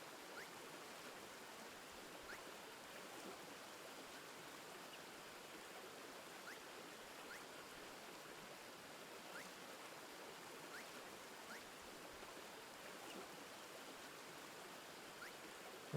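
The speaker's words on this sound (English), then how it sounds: "Right into the ice cold winter river." An ice-cold winter river flowing steadily in a video game, heard as a faint, even, continuous rush of water with no breaks or voices.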